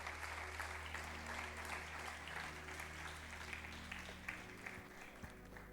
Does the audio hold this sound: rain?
no